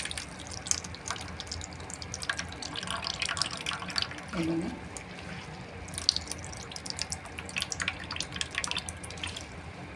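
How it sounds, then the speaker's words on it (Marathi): Water squeezed by hand from salted radish leaves drips and trickles lightly into a plate, soft scattered splashes continuing under someone speaking briefly. "हा मुळ्याचा पाला आहे तो असं आपल्याला पिळून घ्यायचं आहे पाणी त्याचं"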